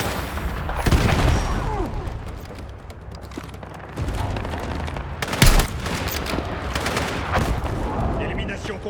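Battlefield 6 battle on Gibraltar with bursts of gunfire and booming blasts, loud and close, mixed with combat noise and game voices.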